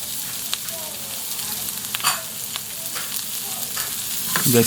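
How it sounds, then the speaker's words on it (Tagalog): Garlic and onion sautéing in a pan, a continuous close frying sizzle with occasional stirring scrapes and a louder rustle at the end. "Gisa natin yan ng mga 60 seconds. O hanggang tuluyin ng lumambot ang mga sibuyas."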